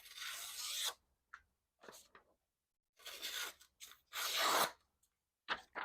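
A knife blade slicing through material in a cut test, giving several rough, scraping rasps of varying length, close and fairly loud, with short pauses between strokes.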